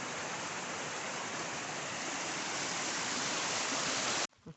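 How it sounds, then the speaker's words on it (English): Waterfall on Laurel Fork along the Appalachian Trail, a dense, constant roar of rushing water heard up close that cuts off abruptly near the end. "this section has a lot of waterfalls"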